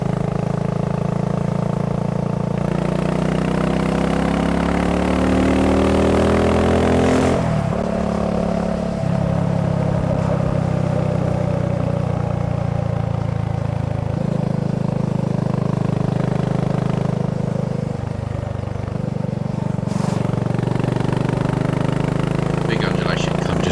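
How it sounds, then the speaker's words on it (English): A BSA Goldstar 650 motorcycle engine rumbles while being ridden on a road, a continuous low throb with rises in revs and shifts in pitch, heard close up under steady wind noise. "this engine really does use its torque well."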